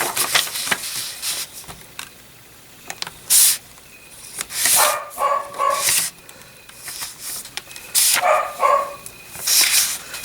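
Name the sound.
dog Punky barking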